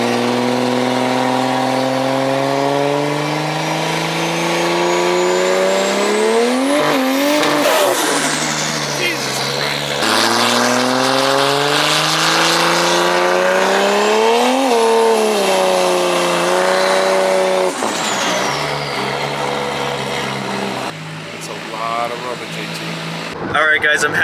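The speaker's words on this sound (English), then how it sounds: "I'm happy I got a few burnouts in on camera" A Toyota Supra revs hard in repeated surges during burnouts, the engine pitch climbing and falling through several loud sweeps, with tire noise mixed in close by.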